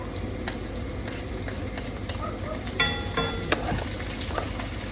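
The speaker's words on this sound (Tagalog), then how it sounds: "Gisa-gisa lang po natin siya ng kaunti." Garlic and onion sauté in a pan, a steady close sizzle with a few light scraping stirs and clinks over the hiss, no talking.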